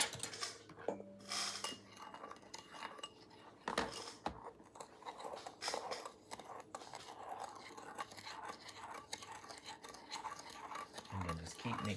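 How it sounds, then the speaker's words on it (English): Cinnamon and sugar being stirred together in a bowl with a utensil, giving a steady run of scraping and clinking close by, with no talk. "And then just keep mixing until you see everything is kind of well combined."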